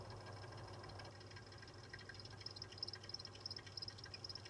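PS4 Pro console making a faint, irregular dripping-like ticking over a steady low fan or hard-drive hum, quiet and close, no speech.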